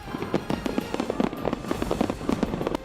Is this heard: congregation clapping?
no